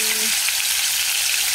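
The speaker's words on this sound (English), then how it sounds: "start by frying up the tomato" Tomato frying in hot oil in a pan while cooking Guyanese-style corned beef and rice, giving a steady close sizzle throughout with a short faint tone at the start and no talking.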